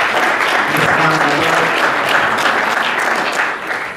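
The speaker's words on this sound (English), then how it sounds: "We give her a round of applause" Applause from a family reunion gathering, a dense, steady wash of clapping that fades toward the end, with a voice speaking briefly over it.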